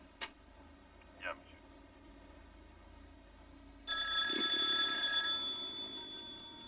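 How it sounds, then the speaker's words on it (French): A telephone bell rings loudly and steadily for nearly three seconds in a quiet room, in a 1991 French-dubbed comedy, following a couple of faint ticks and clicks. "J'ai toujours détesté me faire réveiller par le téléphone"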